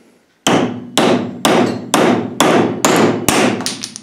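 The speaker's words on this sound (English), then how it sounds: "when you sand Richlite to 80 grit and hit it with a hammer, it wants to stay" Seven sharp, evenly spaced hammer blows strike a wood-glued Richlite joint sanded to 80 grit, each crack ringing briefly and loudly in close range with no voices.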